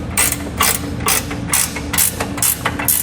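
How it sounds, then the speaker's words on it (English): An 18mm ratcheting wrench tightening factory bolts for a trailer hitch on a 2019 Jeep Wrangler Unlimited, with about seven rhythmic close ratchet clicks in quick, evenly spaced pulls. "Then I'll use that same 18mm wrench to tighten up the two factory bolts."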